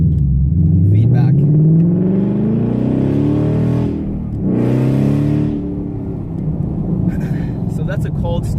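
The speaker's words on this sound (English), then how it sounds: "So that's a cold start." A 2015 Ford Mustang GT V8 cold-starts and settles into a loud rumbling idle with a rising whir, then a sharp rev swells and falls before it drops back to a steady close idle.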